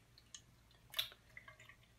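Water trickling and dripping through tannin filter media as it is slowly poured through, faint close drips and small liquid splashes over a quiet low hum.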